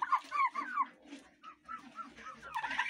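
Chickens cluck softly nearby in short, broken bursts, a few hens murmuring over a quiet background in a farmyard with geese and ducks.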